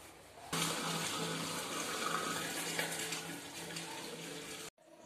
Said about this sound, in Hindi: ये हल्दी पानी है।